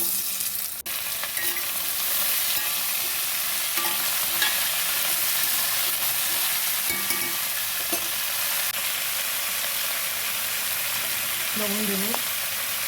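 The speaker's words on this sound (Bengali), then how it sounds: "দিলাম শুকনো লঙ্কা একটা, আমি এবার দিয়ে দেবো আলুগুলো, ছেড়ে দেবো।" Potatoes fry in hot oil seasoned with a dried red chili and five-spice tempering, giving a loud, constant sizzle with occasional stirring scrapes, close up, and a brief voice near the end.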